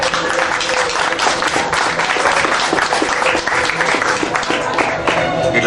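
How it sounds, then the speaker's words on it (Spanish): Steady, full applause from an audience at a book presentation, dense and even throughout, with many hands clapping together and no speech on top. "les pedimos un aplauso"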